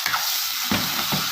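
Rice and vermicelli stirred together in a pot, giving three scraping, rustling strokes with a soft sizzle, close and moderately loud, with no talking.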